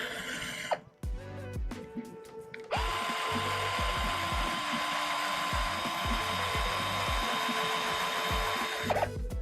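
Parts of an RC truck kit are screwed together with a small power screwdriver: a few short whirs, then a long steady buzzing drive for several seconds, under a repeating rhythmic background pattern.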